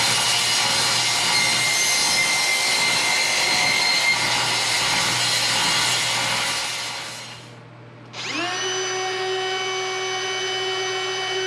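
Table saw cutting a dado into a wood board: a loud, steady whining cut for about seven seconds, a brief dip as the blade clears, then the saw spins on with a clear tonal hum alone.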